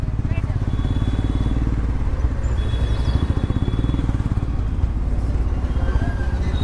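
A motorcycle rides through heavy traffic with a passenger on the back, its engine a steady, close, continuous drone with rhythmic pulsing throughout, while people talk over it and other vehicles hum around.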